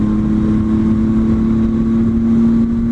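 Triumph Tiger motorcycle at wide open throttle on an on-ramp in cold weather: a loud, steady engine drone with a strong tonal hum held throughout, close and alone.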